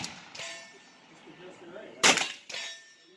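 A Henry lever-action .22 rifle fires CCI standard velocity .22 Long Rifle rounds with pure lead bullets. The clip has a soft early pop, then one loud, sharp crack close by, followed quickly by a second metallic report.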